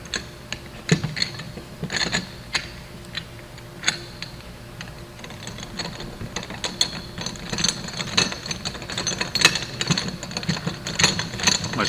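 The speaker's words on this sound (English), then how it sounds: "My splitter's a little bit well used, so bear with me here while I tighten this." A ratchet tightening a well-used bearing splitter during a Cummins fan hub bearing install, giving irregular clicking pawl bursts, close and fairly loud, against workshop background noise with no talking.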